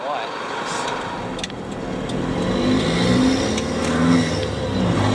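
An RC Colorado truck fitted with a stainless snorkel whines steadily with its motor revving, a continuous close buzzing drone that swells slightly toward the end, with faint voices in the background.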